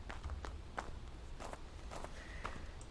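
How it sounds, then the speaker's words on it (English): Footsteps in the Phasmophobia ghost-hunting game at an abandoned campsite, a few soft, scattered thuds spread across a quiet, low-rumbling background with no talk. "Did you guys hear that footstep?"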